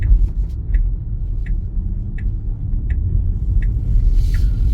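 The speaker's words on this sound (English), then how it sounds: "So we are turning right on the Maryland's road" A car driving along a suburban road in Merrylands during a driving test, with a steady low engine and road rumble heard from inside the cabin, plus regular faint indicator-like ticks.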